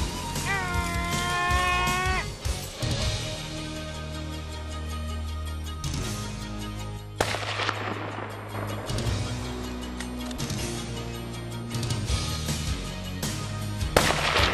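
Rifle shots during a grizzly bear hunt, heard as a couple of abrupt reports, the clearest midway, set under a continuous bed of music that dominates throughout.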